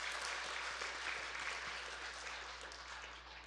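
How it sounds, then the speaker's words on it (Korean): A church congregation applauds during a Sunday service, with steady, dense clapping that holds for the whole span and thins a little toward the end. "인내해 주신 주님께 박수 한번 올려드리세요"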